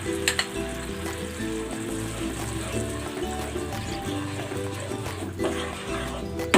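Cream and chicken broth poured into a hot pan set up a steady, close sizzle and frying hiss that holds across the whole stretch, with a few brief louder bursts as the liquid hits the heat.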